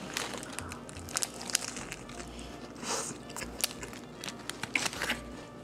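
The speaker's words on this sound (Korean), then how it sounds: "일단은 빨리 먹어볼게요" Crinkly crunching of a Lotteria whole-muscle chicken burger being bitten into and chewed, with wrapper rustles and scattered sharp crackles, close and fairly quiet, no talking.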